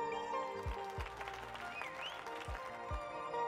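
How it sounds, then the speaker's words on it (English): A crowd claps in the video game Neon White, a steady wash of applause layered over music, with no speech. "That was a bigger crowd, like, clapping than four people."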